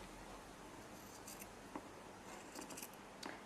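Scissors trimming fabric for a slow-stitch book: several quiet, brief snips spaced out over a soft hiss, close and faint, with no talking.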